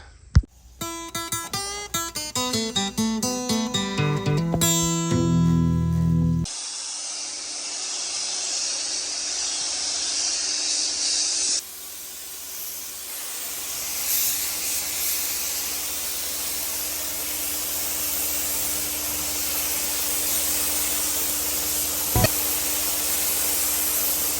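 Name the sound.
spray gun painting a 1965 Chevy C30 truck part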